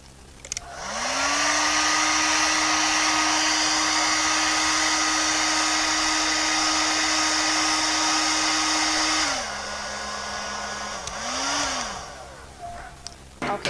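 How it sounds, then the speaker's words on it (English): A hair dryer blows on a watercolor painting of strawberries, spinning up to a loud, steady whine that holds for several seconds, drops to a lower setting, briefly rises again, then cuts off. "I want this to dry quickly so we can get on with it, so I'm going to blow dry it real quickly"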